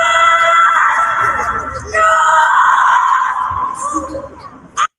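A man imitates a screaming noise with his voice, a loud sustained high yell that shifts pitch partway, then tails off before a brief sharp cry at the end.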